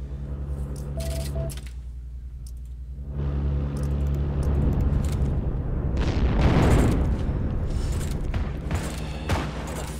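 Frag grenade blast in the Heroes and Generals war game: a loud, deep booming explosion with a long rumbling roll-off that swells again midway, heard close and alone without talk.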